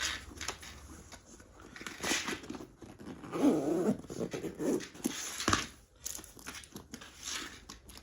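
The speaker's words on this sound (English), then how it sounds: "the zipper is very, very hard." Close, scratchy zipping of a backpack's stiff zipper and rustling of fabric, with intermittent tugs and crinkles across several seconds and no talking.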